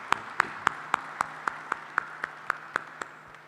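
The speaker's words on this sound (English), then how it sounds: "I'd like to give him a round of applause if you don't mind" Handclaps at an African Energy Week 2024 conference session on the OPEC World Oil Outlook, heard as a steady, evenly spaced run of sharp claps, fairly close and regular, with no talk over them.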